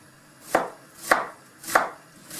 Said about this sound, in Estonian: Sibulat praegust ma puhastan ja viilutan piklikeks ribadeks